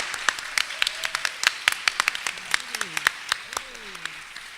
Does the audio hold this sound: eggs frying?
no